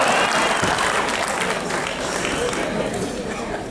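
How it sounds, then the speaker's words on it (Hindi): Audience applause at a Hindi comedy poetry gathering, a dense continuous clatter of many hands filling the room loudly, holding steady throughout. "आप लोग क्यों बजाओ ताली?"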